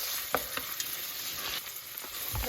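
Garlic sizzling in a pan over already-softened onions while making potato and carrot soup, a continuous close frying hiss with occasional soft crackles and stirring taps.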